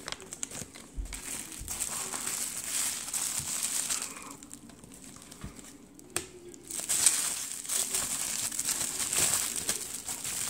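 A mailed package holding a Topps baseball card is opened, with quiet crinkling and crumpling of packaging and paper that comes in irregular bursts and pauses, close by and fairly faint, with no voices.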